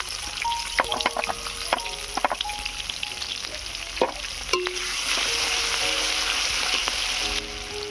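Onions fry in oil in a pan while a fish curry is being made, a steady, dense sizzle and crackle that swells slightly later on, with a few light utensil clinks; close and fairly loud, with no talking.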